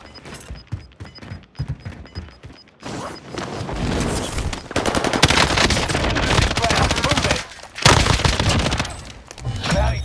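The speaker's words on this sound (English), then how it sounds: "Taking heavy fire." Heavy automatic gunfire in the Rebirth Island battle game, loud dense bursts of rapid shots filling most of the stretch with brief gaps, some scattered single shots and a voice heard early on.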